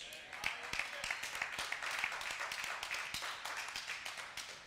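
Church congregation applauding, a steady patter of many hands clapping at moderate distance, with voices murmuring underneath.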